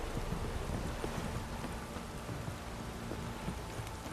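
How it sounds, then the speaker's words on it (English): Steady rainfall in The Witcher 3 hisses evenly and fairly loud throughout, with faint wind underneath and no break in the downpour. "If it don't stop raining, my arse will rot off."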